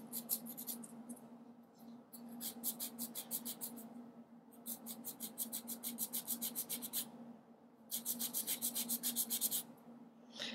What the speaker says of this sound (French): N'ayez pas peur de bien limer fort.